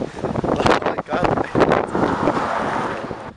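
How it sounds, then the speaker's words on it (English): Gusty wind buffets the microphone outdoors on a windy day during a skateboarding outing in Moncton, a loud, rough roar that surges and briefly dips before picking up again. "It's a windy day."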